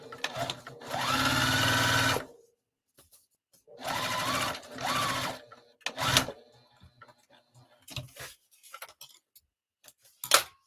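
A domestic sewing machine stitches the lining of a zipper bag in several steady bursts of a few seconds each, close and fairly loud, with quiet handling clicks and fabric rustle in the pauses.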